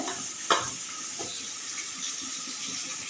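Cabbage frying in a pan is stirred, with a steady sizzle throughout and a sharper scrape or clatter near the start, all fairly close and with no talking.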